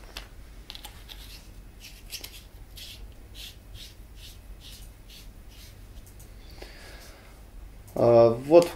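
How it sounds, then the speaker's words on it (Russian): A test battery goes into an Olight M21-X Warrior underbarrel tactical flashlight. Quiet scraping and small clicks come at close range, and a voice speaks briefly at the end. "Ставим тестовый аккумулятор."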